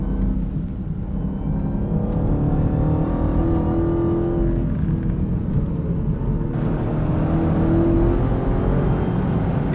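A 2015 Dodge Charger Hellcat accelerating from inside the cabin, its engine giving a steady rising whine over a loud, continuous low rumble, with no talk.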